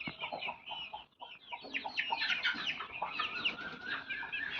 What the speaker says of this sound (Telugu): అది పుంజు పిల్ల.